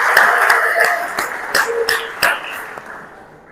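Claps ring out from an audience at a road safety event, sharp individual claps at first that thin into a short, loose round of applause before fading away.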